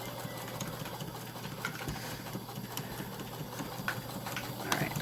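A sewing machine stitches new upholstery fabric with a steady, close mechanical whir and rapid needle chatter, running alone without speech.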